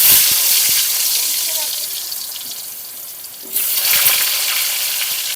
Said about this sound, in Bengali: আলুটা ভেজে নেবো প্রথমে।